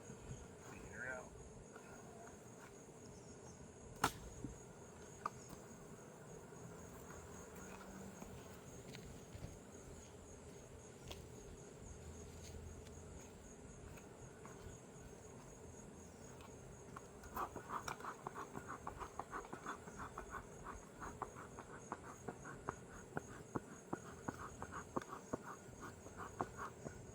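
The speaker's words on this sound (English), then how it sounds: "this is the one hive that I open and they're just there. They're swarming." Honey bees swarming around an opened hive, a continuous low insect hum with scattered clicks and light handling taps, a person speaking quietly over it.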